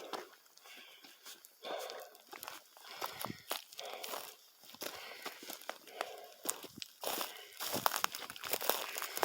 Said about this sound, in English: If you go over there and walk on them, once they've been out here a while, they're not crunchy at all.